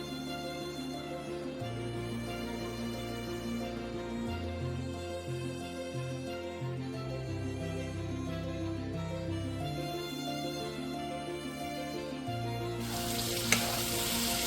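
Boneless chicken fries in a kadai, a steady sizzle running beneath loud background music, with a brief burst of hissing near the end.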